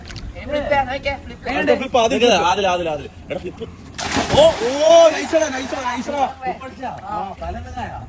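Someone jumps into a swimming pool and sends up a loud, brief splash of water in the middle of lively chatter from people nearby.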